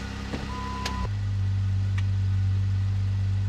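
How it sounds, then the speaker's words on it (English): A Jeep engine cranks and catches after a brief beep, then settles into a loud, steady low idle that runs on without a break. "we start the Jeep"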